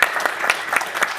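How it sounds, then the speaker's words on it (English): Audience applause at a film workshop talk, a short steady burst of many hands clapping with no voices over it. "can we just give a round of applause?"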